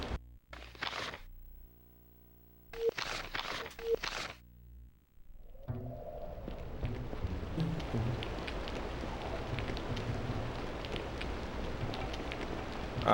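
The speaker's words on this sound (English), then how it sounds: "the audio loop for the rain sounds wonderful" A looping rain ambience from the N64 game Aidyn Chronicles: The First Mage comes in after a few seconds of other game sounds, a soft, even patter of falling rain that continues steadily to the end.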